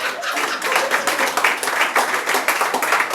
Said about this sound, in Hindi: अब इनके लिए एक बार जोरदार तालियां।